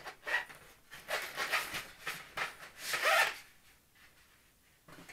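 Rustling, tearing and scraping as taped parts of an E-Flite P-47D Razorback RC warbird kit are pulled from the box, in a series of close, uneven bursts.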